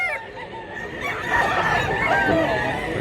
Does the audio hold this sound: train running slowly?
no